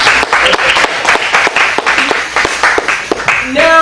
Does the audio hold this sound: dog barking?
no